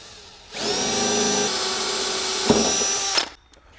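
Power drill boring a pilot hole ahead of a hole saw, during a Chevy S10/Blazer master cylinder install: a steady high-pitched whine running about three seconds with a brief bump partway, then cutting off, close and alone.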